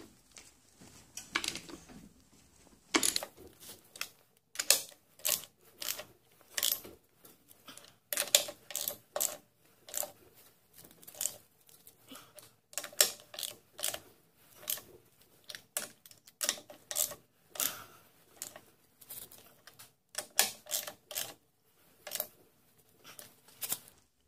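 Sharp ratcheting clicks come in quick repeated bursts as a socket wrench tightens car wheel lug nuts in a cross pattern with the vehicle left in gear, loud and close with short pauses between runs.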